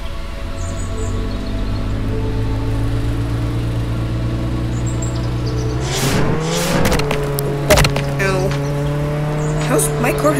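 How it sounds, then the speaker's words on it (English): A car in the Roblox Jailbreak game drives with a steady engine drone, then tire squeals and a sharp crash as it takes out two lampposts, with a voice talking over it. "My car has no visible damage after taking down two lampposts."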